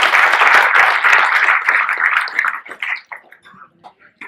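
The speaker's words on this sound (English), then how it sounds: "round of applause for Cowboy Driving" Audience applause at a gadget festival, a dense burst of clapping that thins out into scattered claps and fades within a few seconds.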